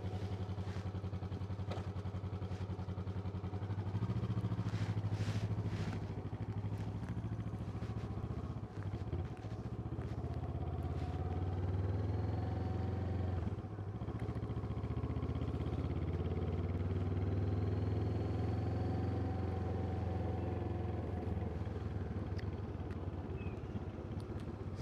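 A motorcycle rides around a neighborhood with a steady, moderately loud engine drone mixed with wind buffeting and road clatter, no talking.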